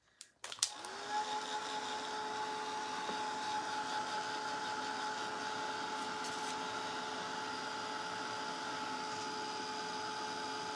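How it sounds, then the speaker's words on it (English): A hair dryer starts with a click and then blows in a steady, continuous whirring drone while drying fresh paint on a denim jacket, close by with no talking. "let me put the dryer to it right quick before I hold it up"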